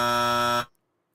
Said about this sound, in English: Let me hit the buzzer for myself on that one.